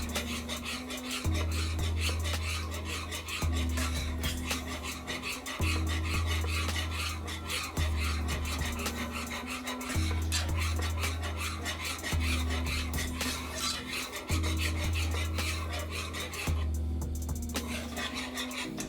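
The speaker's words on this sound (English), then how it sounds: "Want to keep mixing, constantly mix. Don't let it sit so it can clump up." Creamy white sauce for spaghetti being stirred constantly in a pan, with steady rasping scrapes of a utensil against the pan repeating in a regular rhythm, close and continuous, with no talking.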